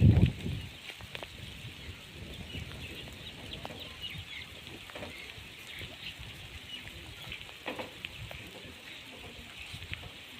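Light rain patters steadily outdoors in a village at a soft level, with scattered drips and faint background noise; a brief thump sounds at the very start.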